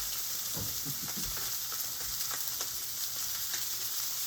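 Spam slices frying in a pan, a steady loud sizzle with occasional crackles and pops as the meat is stirred and moved around, with no talking.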